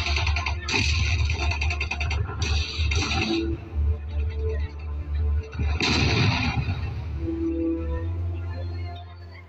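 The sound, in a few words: gunfire sound effect in a school drama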